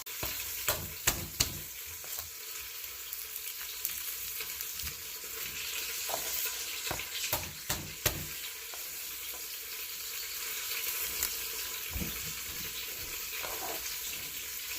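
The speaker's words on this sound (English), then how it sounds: "3 lamb shanks getting brown there in the Emeril Lagasse pressure air fryer." Three lamb shanks brown in an Emeril Lagasse pressure air fryer, making a soft, steady sizzle and crackle at low volume, dotted with occasional light clicks and taps.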